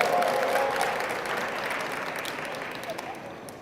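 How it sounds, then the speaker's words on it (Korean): A church congregation applauds during a Sunday service. The clapping is dense and sustained, starting loud and slowly fading over a few seconds, with some voices mixed in. "박수 한번"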